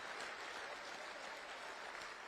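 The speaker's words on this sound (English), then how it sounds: "they deserve the biggest applause" A community meeting audience applauds firefighters, police officers and paramedics, with steady, even clapping that fills the room throughout and carries no speech over it.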